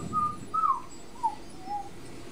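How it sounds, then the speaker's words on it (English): A person whistles by sucking air in, producing four short, soft, wavering notes with small gaps between them, fairly quiet against low room noise. "I can whistle if I suck in"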